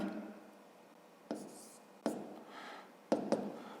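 Handwriting during a fifth-grade math lesson: a pen or chalk scratches steadily across the surface, punctuated by a few sharp taps as strokes begin, close and fairly quiet with no talking.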